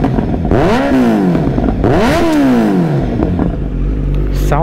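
Kawasaki Z900 motorcycle engine revved twice in quick succession, each rev climbing sharply then falling back to a rough idle, loud and close.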